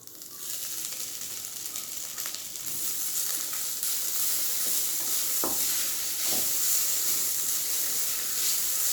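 Slightly bitter vallarai keerai leaves are sautéed in a pan for Tamil thuvaiyal chutney, with a steady close sizzle and the occasional scrape of a stirring spoon, with no talk.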